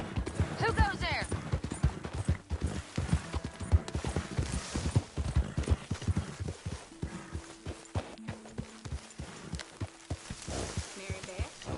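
Horse hooves clip-clopping in Red Dead Redemption 2: an uneven run of close hoof strikes with a buzzing insect drone, short whinny-like sounds and faint voices in the background.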